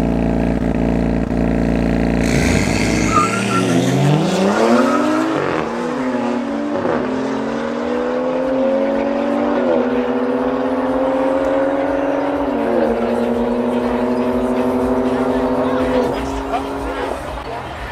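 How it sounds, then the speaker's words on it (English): A BMW 135 and a BMW M2 launch side by side in an illegal Johannesburg street race, engines rising through repeated gear changes in a long loud accelerating roar that slowly recedes. "next up we got a 135 going up against the M2"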